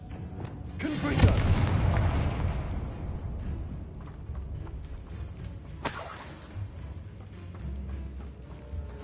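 Confringo blasting curse exploding in Hogwarts Legacy, a sharp loud burst with crackling debris that fades over a couple of seconds, followed by a second bright impact amid low rumbling game ambience.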